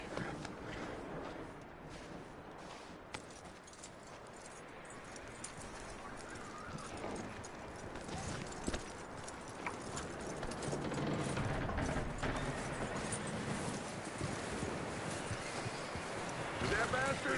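A horse in the video game Red Dead Redemption clip-clops along with steady hoofbeats amid wind and outdoor ambience, with occasional voices talking over it.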